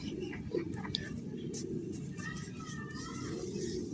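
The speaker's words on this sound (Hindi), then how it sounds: "ये ना गोल पर का कबूतर है" Round-feathered pigeons cooing faintly in the background under a low steady murmur, with soft whispery voices nearby.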